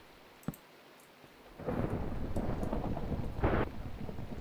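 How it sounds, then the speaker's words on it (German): Minecraft lightning strike thunder: after a short sharp crack, a loud sustained rumble rolls in and holds for several seconds with a brighter burst near the end, like a storm crash with no voices. "diese Geräusch von Blitz ist da so abgehackt"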